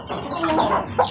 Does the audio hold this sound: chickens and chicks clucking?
yes